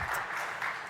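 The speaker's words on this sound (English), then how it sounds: "Claps all around." A short burst of applause as new guests join a gaming talk show table, steady clapping from a small group at moderate volume with no talking.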